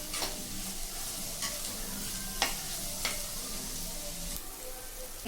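Onions frying in a pan with salt and turmeric, a continuous close sizzle with light crackles and a few clicks of a stirring spoon.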